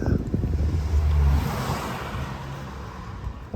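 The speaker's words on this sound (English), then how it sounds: "hear that car?" A car passes on the street with a low engine rumble and rushing wind noise that swells and then fades over a few seconds, fairly close.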